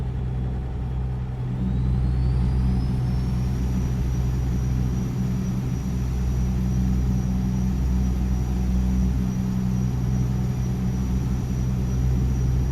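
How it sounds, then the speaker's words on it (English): A truck in American Truck Simulator drones steadily with a low engine rumble while a thin turbo whine rises in pitch and then holds high and constant, loud and even with no talking. "I'm assuming that's the turbos whining."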